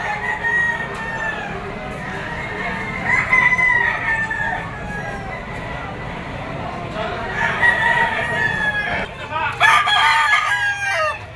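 Gamefowl roosters crowing repeatedly and clucking at the Lipa poultry auction market, several birds at varied distances over a busy crowd murmur, with a burst of loud overlapping crows near the end.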